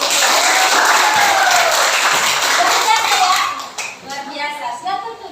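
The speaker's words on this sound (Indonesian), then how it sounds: "ya, tepuk tangan untuk" An audience applauding at a group performance, loud and dense at first, then thinning into scattered claps as a voice begins speaking over the fading clapping.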